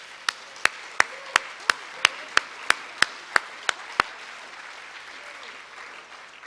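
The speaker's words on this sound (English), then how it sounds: "Let's give a big applause to the people on stage" Single person clapping for people on stage at a plenary conference session: about fifteen sharp, evenly spaced claps over four seconds in a quiet hall, then silence.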